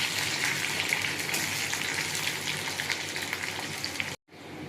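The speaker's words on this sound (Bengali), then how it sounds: "পেঁয়াজটা ভাজা ভাজা হয়ে গেছে" Onions frying in hot oil for a Bengali chicken chorchori, a steady bright sizzle that holds close and even before cutting off abruptly near the end.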